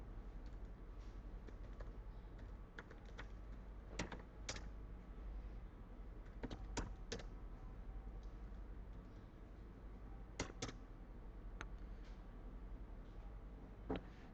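Someone types sample data into an Excel sheet on a computer keyboard, quiet close clicks in irregular bursts with scattered sharper key taps over a low steady hum, no talking.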